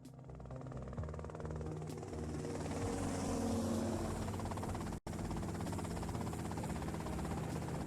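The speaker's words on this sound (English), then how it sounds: "that's them in the chopper" Helicopter in the video game GTA Vice City Definitive Edition, a steady loud rotor drone and engine hum running throughout, with a brief dropout partway through.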